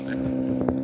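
A fast car's engine in the Roblox Brookhaven game gives a steady, close droning hum throughout the short moment, with faint brief swells over it.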